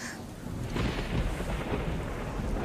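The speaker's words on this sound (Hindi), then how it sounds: "पर इस बारिश में क्यों?" Steady heavy rain with a low rolling rumble of thunder swelling after a moment, loud and continuous, no talk.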